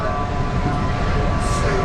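The Sea Serpent roller coaster train at Morey's Piers in Wildwood gives off a loud, steady mechanical roar and rumble, with a faint high tone partway through.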